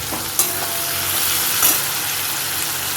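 Chili chicken with green chilies being stirred in a frying pan, a continuous bright sizzle with two sharper scraping stirs of the spatula, no voices.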